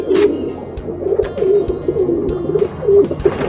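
A pigeon held in the hand gives low, throaty coos in a steady repeating rhythm, close and clear, with small handling rustles around it.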